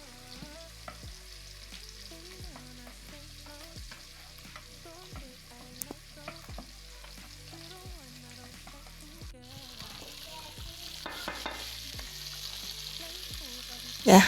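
Meat with leafy okra (jute mallow) cooks in a pot, giving a steady sizzle with occasional stirring scrapes and a faint tonal backdrop. The sound swells slightly toward the end.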